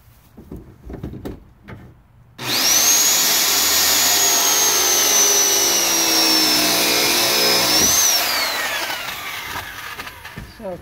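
An angle grinder cuts and grinds the metal of an IBC gas holder, a loud, steady high-pitched whine that holds for about five and a half seconds before winding down.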